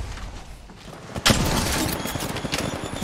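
Gunfire in a shooting video game: a sharp, loud shot cracks about a second in, followed by rapid bursts and echoing reports amid game ambience.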